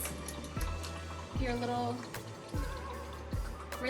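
A paint brush swished and rinsed in a water jar during a daisies-in-a-jar painting session, with repeated low sloshing strokes and faint drips, moderately close and fairly quiet.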